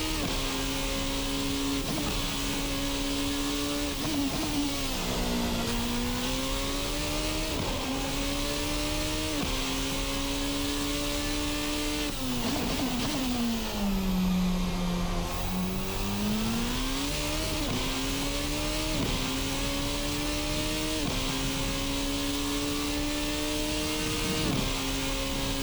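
Formula RSS Supreme race car engine in a racing sim game, a steady high drone that rises and dips with throttle through corners, loud and continuous throughout with no talking.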